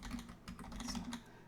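Fingers tap on a computer keyboard in quick irregular bursts of soft clicks, faint and close, with no speech.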